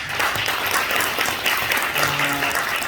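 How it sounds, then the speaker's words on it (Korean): Audience applause at a gathering, sustained even clapping from a crowd that holds steady for the whole stretch. "박수 한번 부탁드립니다."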